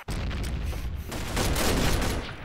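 G3 rifle fire in the game Combat Arms, a dense, continuous burst of loud gunshots with booming low end that runs unbroken for a couple of seconds, close and harsh, with no voice over it.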